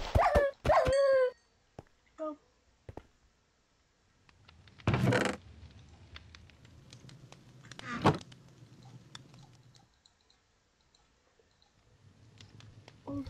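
Puppy dog in the Minecraft video game, giving a few short yips and barks early on, followed by a sharp burst of noise and quieter game sounds over a low hum.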